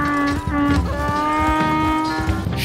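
Donkey in Red Dead Redemption 2 letting out a loud, close, drawn-out bray with a strong harmonic honk that wavers and falls, set over rough background noise.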